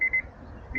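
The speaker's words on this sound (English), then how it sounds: "And it beeps while we're not in it." A parked tow car, set in tow mode behind an RV with a kill switch engaged, gives two short high beeps close by, then a third starts as the clip ends, over low background rumble.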